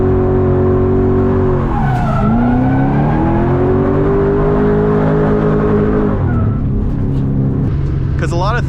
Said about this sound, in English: the rasp of the catless X pipe, combined with the rumble and the high note rasp elimination of the Borla S type